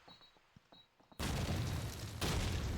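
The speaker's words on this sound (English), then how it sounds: "Pops a nade over there too" Grenade detonation in Call of Duty 2 multiplayer, a sudden loud burst of noise after quiet ambient sounds, sustained with a second surge, with no talk over it.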